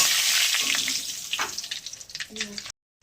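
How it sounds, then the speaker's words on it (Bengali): Dried red chillies and nigella seeds hit hot oil in a pan, a loud close sizzle that quickly fades into scattered crackles and pops before cutting to silence. "শুকনো লঙ্কা একটু কালো জিরে ফোড়ন দিলাম"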